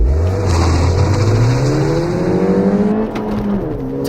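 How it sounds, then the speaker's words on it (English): Ford Fiesta ST hatchback with a 200 hp engine, front-wheel drive and six-speed manual, accelerating hard under load; the engine note climbs steadily, drops briefly at a gear change near the end, then pulls again, loud and close. "We're in the Ford Fiesta ST, 200 horsepower front wheel drive, very light little agile car."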